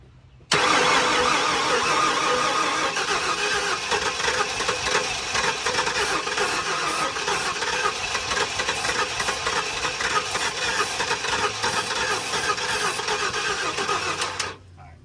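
A Ford F-150 engine, left sitting for seven years, cranks on a second start attempt, a loud, continuous, close churning roar lasting about fourteen seconds before cutting off, with no talking.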